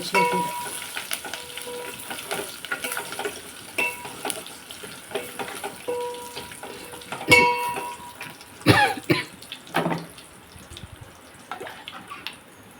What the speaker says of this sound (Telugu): పప్పు తాలింపేస్తాను